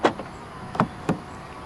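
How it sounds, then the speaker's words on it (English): A 2018 Volkswagen Golf 1.4 280 TSI R-Line locks through its keyless front door handle, giving a sharp click followed by two quick mechanical thunks, close by and isolated. "To lock the car, press the indentation on any of the front door handles."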